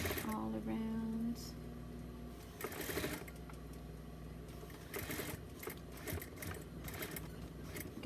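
Sewing machine stitching a small doll bodysuit, humming in a steady near run that fades to softer intermittent stitching, with quiet handling noises and low talk underneath.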